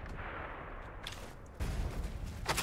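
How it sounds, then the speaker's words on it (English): A Panzerfaust fires and detonates in Sniper Elite 5, a hissing launch followed by a heavy, booming explosion that swells suddenly and lingers as a loud rumbling roar. "Panzerfaust!"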